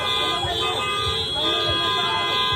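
Many car horns honk together on a busy Chicago street during a chaotic confrontation, long overlapping blasts sounding continuously and loudly, with shouting voices underneath.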